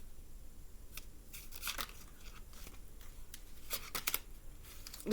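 Playing cards shuffled by hand, a series of quick riffling bursts and soft crisp flutters at close range, fairly quiet, with no talk over them.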